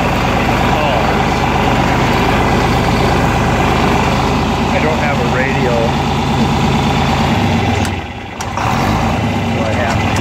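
A 420 ATV idles steadily and close by during farm chores at a steer paddock, its low engine drone running through the whole stretch and dipping briefly near the end, while someone talks over it.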